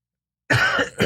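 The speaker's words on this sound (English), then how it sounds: "I coughed and my face cramped." One sharp, close cough bursts out of silence and is followed by a brief second catch of breath, heard alone without speech.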